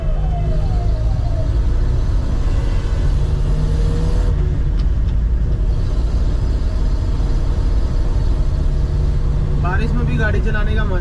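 Steady road traffic heard from inside a car driving in rain, a continuous low rumble with a passing siren-like tone near the end, under ongoing talk.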